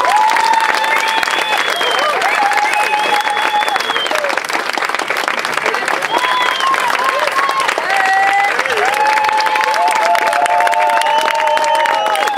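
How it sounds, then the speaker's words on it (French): An audience at a town twinning ceremony breaks into sustained, dense applause with scattered whistles and cheers, and voices call out over the clapping. "Je vous demande de l'applaudir, s'il vous plaît."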